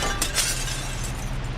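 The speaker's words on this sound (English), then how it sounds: "The glass splinters like a spider's web." Glass shatters and splinters into a dense, hissing spray of cracking shards, with a couple of sharper crunches early on, loud and continuous throughout.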